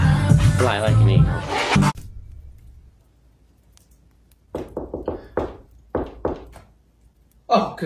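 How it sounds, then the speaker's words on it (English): Knocking on a door at a clothing store in a mall: several short, sharp raps in separate bursts after a stretch of quiet, following loud talk at the start. "there's just someone at the door"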